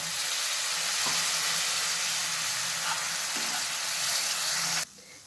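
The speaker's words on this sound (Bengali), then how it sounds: "এরপর আমি মশলাগুলোকে ভালোভাবে কষিয়ে নেব।" Spices with Kashmiri red chili powder and a splash of water fry in a pan for restaurant-style matar paneer, giving a steady, loud, close sizzle that cuts off abruptly near the end.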